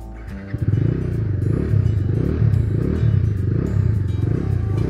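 A Bajaj Dominar 250 motorcycle's exhaust drones steadily while riding, a deep pulsing note held close and loud throughout with no talk.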